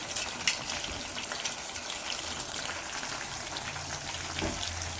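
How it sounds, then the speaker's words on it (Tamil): Chicken 65 pieces fry in hot oil in a pan with a steady soft sizzle and crackle, two sharp pops at the start, and no talking. "பார்க்குறதுக்கு அட்டகாசமாக இருக்குது சிக்கன் வேகிறது"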